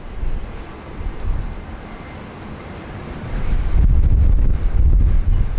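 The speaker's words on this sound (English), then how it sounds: "another Falcon 7X, rolling up to 16 right for departure" A Falcon 7X business jet rolls toward runway 16 right at Sydney Airport for departure, its engine rumble growing louder near the end and mixed with gusty wind buffeting the microphone.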